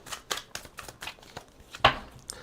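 A tarot card deck being shuffled twice, giving a run of short riffling bursts and soft slaps of cards, close and fairly quiet, with one sharper snap near the end.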